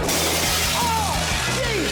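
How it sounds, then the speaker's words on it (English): Glass windows shatter during a house demolition: a dense, crashing burst of breaking glass and debris, loud and continuous over a noisy worksite. "We got windows, glass, explosions everywhere!"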